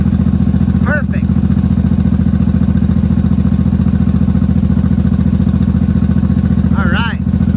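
A 1983 Honda motorcycle engine runs at a steady, loud idle throughout after final assembly. A person talks briefly over it near the start and end.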